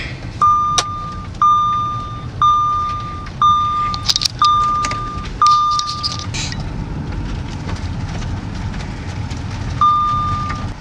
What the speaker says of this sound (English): I'm gonna pull it out to the tow truck